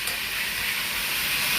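Food frying in a handi (cooking pot), a continuous loud, dense hiss with no breaks, close up and with no talking.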